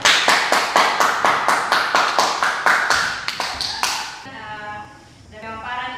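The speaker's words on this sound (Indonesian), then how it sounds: "Beri tepuk tangan." Classroom applause of about fifteen sharp, evenly spaced claps over four seconds, loud and close, then a quieter tail of murmur and faint voices.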